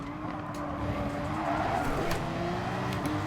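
Racing car in Gran Turismo Sport oversteering, its engine droning steadily while tires squeal and skid through a slide, the screech rising mid-way and holding fairly loud without any talk.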